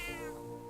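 A cat gives a single clear, close meow in a quiet indoor setting in a fantasy game scene, with no talking over it.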